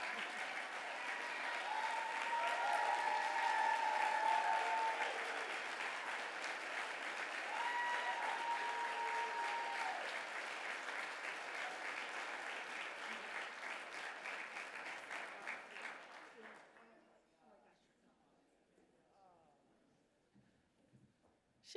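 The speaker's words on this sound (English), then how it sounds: "Give her another round of applause." Sustained applause from an audience at a Hall of Fame awards ceremony, loud and steady for about fifteen seconds before fading away into near quiet.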